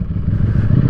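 A 2022 Ducati Streetfighter V4S engine rumbles loudly and close, a deep, throbbing low idle burble over a brief moment.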